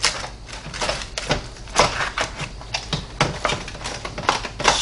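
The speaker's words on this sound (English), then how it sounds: "I'm just going to cut right down here." A knife saws through a smoked beef brisket on a board, giving repeated crisp scraping strokes in an irregular rhythm, close and fairly loud, with no talk.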